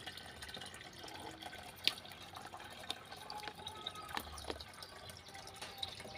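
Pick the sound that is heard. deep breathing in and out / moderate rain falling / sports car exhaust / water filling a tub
water filling a tub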